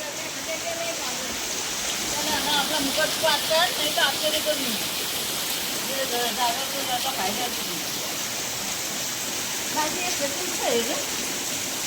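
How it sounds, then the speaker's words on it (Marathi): Heavy monsoon downpour in a village, a steady dense wash of rain close by, with faint voices murmuring beneath it and intermittent chirps. "पाऊस बघा एकदम तुफान बरसतोय पाऊस"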